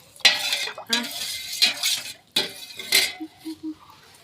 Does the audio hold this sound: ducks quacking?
no